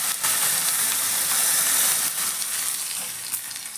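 Hot tempering of dried chilli, mustard seeds and fenugreek poured into a tomato curry, giving a loud, steady sizzle and crackle that tapers off gradually.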